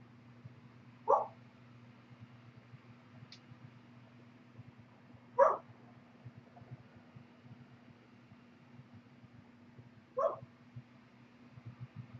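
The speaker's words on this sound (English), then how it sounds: "now one of my dogs is going crazy out there" Outdoor dog barking, set off by a passing car: three short, sharp barks spaced several seconds apart, moderately distant, over a steady low fan-like hum.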